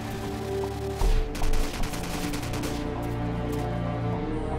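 AK-47 assault rifle firing in Call of Duty 4: Modern Warfare, a dense game-audio burst of gunfire with sharp loud reports near the start, then a sustained loud ringing wash of shots and tail, no talk.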